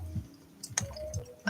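Fabric scissors trim excess material off an art doll in a few quick, close snips and clicks, quiet and alone with no talking.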